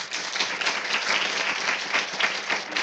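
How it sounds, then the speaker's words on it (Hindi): A church congregation claps for the Lord, continuous lively applause with a slightly rhythmic pulse, filling the room evenly from start to finish. "प्रभु के लिए तालियां बजाएं।"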